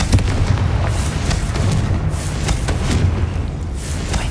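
Bombarda and Confringo spell blasts in Hogwarts Legacy thump repeatedly in a loud, dense barrage of booming explosions that run continuously for several seconds, with no talking.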